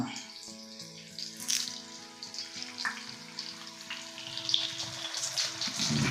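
Chicken pieces frying in hot oil with sprigs of curry leaves added, a loud, continuous crackling sizzle close by that grows busier toward the end.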